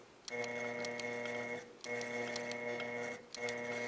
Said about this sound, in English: I'm going to go ahead and do tiny locking stitches